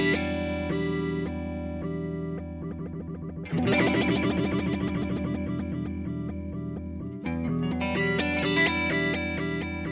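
Electric guitar run through an Eventide Rose flanger on square-wave modulation, playing a riff whose tone jumps abruptly between two flanged states, dense and effected, with no talking.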